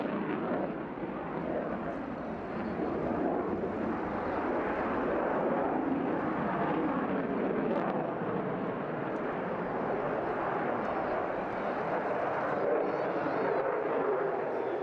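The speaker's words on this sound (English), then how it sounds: "take it up into a low energy, slow speed loop" Aerobatic airplane roars continuously overhead at an airshow in Wales while flying a slow-speed loop, its loud broadband engine noise sustained throughout.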